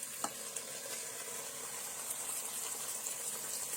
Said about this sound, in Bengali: এই গরুর মাংসটা আপনি এইভাবে কষিয়ে নেবেন